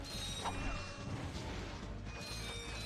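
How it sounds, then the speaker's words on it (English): A wrench slam attack in the Ratchet & Clank video game, a dense metallic crash and clank amid busy game effects and music, loud and continuous with no talk. "I love that slam. I love how it also enlarges the wrench as well."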